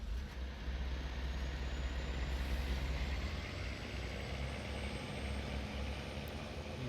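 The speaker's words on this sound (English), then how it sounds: "So let's get these trucks on the road" Heavy truck engines in the farming game Farming Simulator 19, droning steadily with a deep low rumble and a faint high whine, continuous and fairly loud throughout with no talk.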